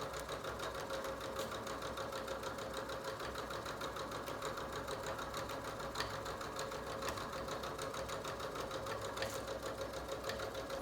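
A sewing machine stitches a seam on pajama pants, a continuous, even mechanical whir that never pauses.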